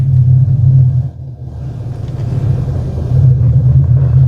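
A 2013 Mustang GT with an Exedy clutch and MT82 manual gearbox cruises down the road, its steady low engine rumble and road drone continuous and loud from inside the car, dipping briefly before swelling again.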